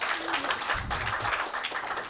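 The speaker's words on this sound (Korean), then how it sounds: "우리 이해준 부회장, 박해준 부회장님에게 좀 박수 쳐주세요." Brief audience applause at a peace forum session, a burst of scattered clapping from a moderate crowd, fairly quiet and fading.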